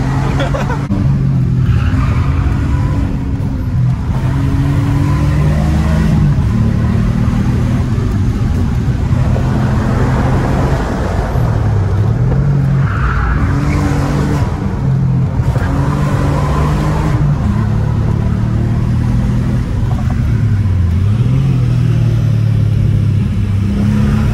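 Inside an Alfa Romeo 147 GTA with a V6, the engine drones and shifts pitch as the car brakes and corners. Its steady road roar runs throughout, under a voice that talks over it.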